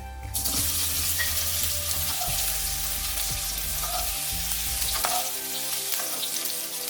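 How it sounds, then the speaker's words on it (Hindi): Baby potatoes frying in hot oil over high flame for Bengali dum aloo, a loud, steady hiss with occasional faint clicks of stirring, running continuously for several seconds. "ऑयल अच्छे से गर्म होने के बाद हम पोटैटोज को थोड़ा सा फ्राई करेंगे गोल्डन ब्राउन होने तक"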